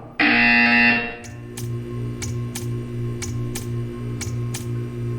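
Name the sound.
buzzer in a video game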